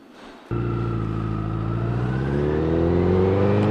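A motorcycle engine idles steadily close by, a low harmonic rumble that rises gradually in pitch as the bike is moved, loud and without talk.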